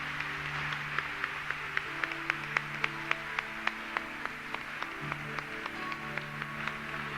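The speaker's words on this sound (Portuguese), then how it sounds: "Você pode aplaudir com toda alegria o Santo Evangelho." A church congregation claps in time during Mass after the Gospel reading: sharp, evenly spaced claps in a steady beat, fairly faint, with sustained tones running underneath.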